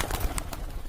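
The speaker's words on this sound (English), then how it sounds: "Pigeon." A pigeon gives a short, soft coo, a brief bird call lasting under a second, heard on its own over a light noisy background.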